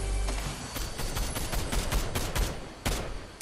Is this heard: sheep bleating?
no